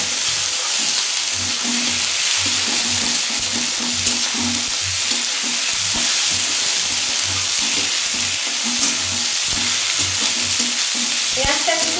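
Sliced medium onions frying in oil for a tilapia fish jhal, a steady dense sizzle with stirring scrapes throughout, close and continuous, no voices.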